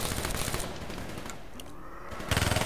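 Dense, rapid gunfire from Black Ops 3 zombies on the Der Eisendrache map, a steady rattling burst that carries through the whole stretch and swells louder near the end, with no talk.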